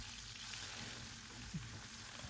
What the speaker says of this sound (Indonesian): Panaskan minyak, masukkan bawang putih yang dicincang, kita tumis sampai berbau harum